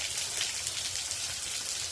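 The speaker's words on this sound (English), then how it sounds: "It's like a curtain of a rain shower kind of coming down." Steady rain-like hiss of water pouring down in a curtain along a hiking trail in the Foothills, a continuous broadband wash with no talk.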